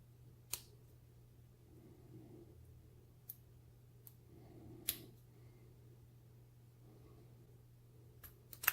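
A vintage Illinois wafer padlock is picked with a lock-picking tool, giving sparse, faint, sharp clicks spaced irregularly over a quiet background hum.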